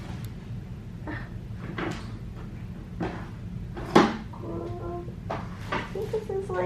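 A drawer of foil craft supplies is pulled open in a home workspace, with soft rustles and small clicks leading to a sharper knock midway, followed by light rattling, under quiet background talk.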